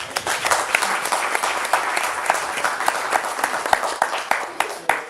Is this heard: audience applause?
yes